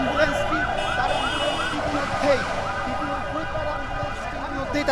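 An ambulance siren wails in repeating rising and falling sweeps, loud and close, over a steady background rumble.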